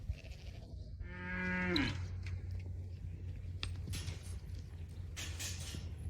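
A single cow lets out one long moo, fairly close, followed by quiet outdoor ambience and a few faint distant noises.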